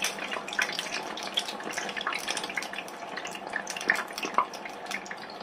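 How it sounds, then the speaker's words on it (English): Hot oil bubbles over in an Ambiano ALDI mini deep fat fryer while chips cook. Soft, continuous crackling and popping fills the clip, with a few sharper spits standing out. "because that is bubbling over"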